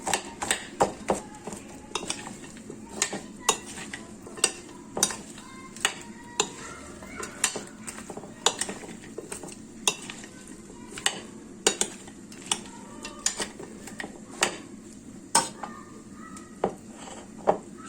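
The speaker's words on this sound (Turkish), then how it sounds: "bunu karıştıralım tuzu da içinde kekiği de içinde" A spoon stirs salmon pieces seasoned with salt and thyme in a bowl, giving regular close clinks and scrapes at a steady rhythm, with no voices.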